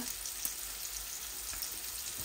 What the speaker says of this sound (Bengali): এই যে জিরা দিচ্ছি পরিমাণ মতো, আর দুটা তেজপাতাও দিব এই কারির মধ্যে।